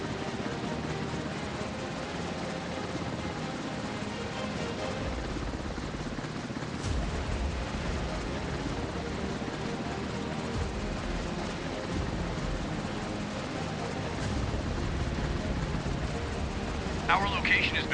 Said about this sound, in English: Helicopter ready for launch.